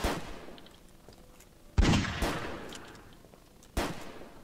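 A few separate pistol shots ring out in the zombie survival game Fort Zombie, two sharp cracks close together then a third after a pause, with a low rumble trailing each.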